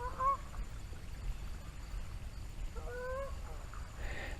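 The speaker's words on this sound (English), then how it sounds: "Here come the geese." A flock of geese calls from beside a quiet seaside beach, with one nearer honk early on and then a cluster of distant honking later, all set over a steady background wash of surf and wind.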